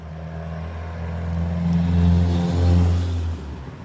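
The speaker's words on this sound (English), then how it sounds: "Somebody's got a turbo." A turbocharged car engine revs up at close range in a smooth rising drone, then eases off near the end, with only a faint release at the drop.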